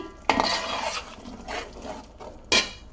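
Turmeric, about half a spoon, being stirred into a spice paste in a pan for a Bhimavaram-style fish curry: a spoon scrapes and clinks against the pan in a few separate strokes, close and fairly loud, with a sharp clank near the end.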